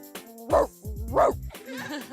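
A person voices a deep, big-dog bark, imitating the dog with two loud, gruff woofs in quick succession followed by a softer growling tail.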